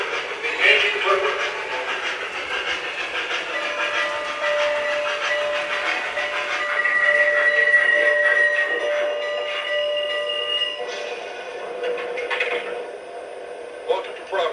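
Passenger train number 22, the Yankee Clipper, rumbles along steadily toward Providence with sustained whistle-like tones and squealing, the noise rising midway before easing slightly toward the end.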